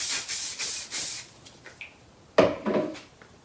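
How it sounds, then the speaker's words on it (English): Hairspray hisses from an aerosol can onto hair in several short bursts close by, with brief rubbing and handling noises between sprays and no talking. "I always think this is good to get a little bit of spray on."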